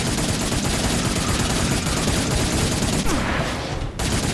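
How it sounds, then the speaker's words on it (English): Minigun fire in the video game Cygnus Enterprises, a dense continuous roar of rapid shots against enemies in a desert area, loud and unbroken before cutting off abruptly near the end. "So using the minigun against these enemies, but the minigun makes you quite slow to dodge."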